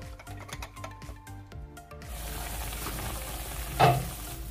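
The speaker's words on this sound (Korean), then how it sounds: "물 120ml, 찹쌀가루 3큰술, 들깨가루 1컵을 넣고 섞어줍니다." Water, glutinous rice flour and perilla powder stirred together for a Korean mushroom perilla soup, a soft scraping and swishing mix that turns steadier and denser partway through, with a brief louder knock near the end, no voices.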